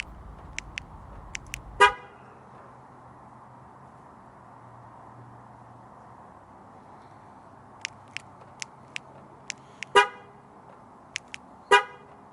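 A Honda Pilot fitted with a Start-X remote starter gives three sharp horn chirps spread across the stretch, with small clicks in between and a low steady engine hum once the motor is running.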